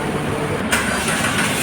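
A Mitsubishi Xpander engine cranks and catches, then settles into a loud, steady idle close by.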